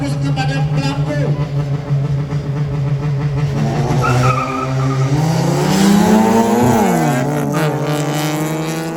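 Drag race cars launch off the start line at a championship in Aceh, engines rising and sweeping up in pitch with tire noise, loud and close, over commentary in Indonesian.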